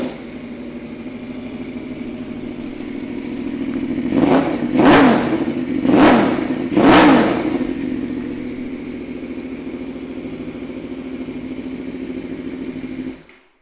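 A 2014 Aprilia Tuono V4 1000 APRC motorcycle with an Arrow exhaust idles with a deep burble, then revs in three sharp blips before settling back to a steady idle and cutting off.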